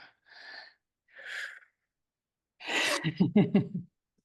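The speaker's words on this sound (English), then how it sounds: "Give yourself that gift of one deep breath" Slow, deep breaths drawn close to the microphone during a guided meditation session. Two soft airy inhales are followed by a longer, louder breath that ends in a voiced, sighing exhale.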